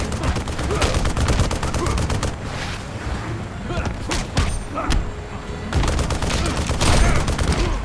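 Video game gunfire in Injustice: Gods Among Us, with dense bursts of rapid shots and heavy impacts filling most of the stretch, pausing briefly in the middle and resuming loudly toward the end, with some talk mixed in.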